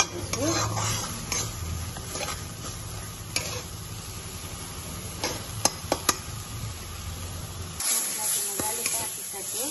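Tomato, onion, mustard, ginger and garlic fry in a pan with a continuous sizzle and frequent scraping clicks from stirring, close and moderately loud, without talking.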